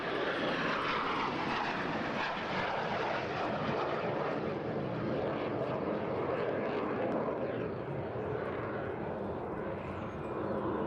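A BAC Strikemaster jet flies a display at the Eastbourne airshow, its engine roaring as a broad, steady rush that swells and fades slightly throughout.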